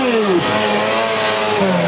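Race car engines rev and whine in a car rodeo where old cars, among them a Lada estate, battle around the track. Rising and falling engine tones overlap with tire and crowd noise.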